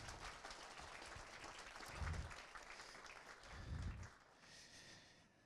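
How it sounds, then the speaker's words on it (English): Applause from a small audience at a tech meetup, a soft, steady patter of clapping heard from some distance at low level, with a couple of brief low thumps partway through. "if we could have a little round of applause for Wrangle"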